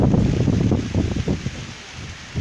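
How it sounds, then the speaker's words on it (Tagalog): Strong gusting wind roars outdoors during a typhoon, buffeting the microphone with heavy low rumbling turbulence that surges and eases for a couple of seconds, no voices present. "Perting kusog hangin dito."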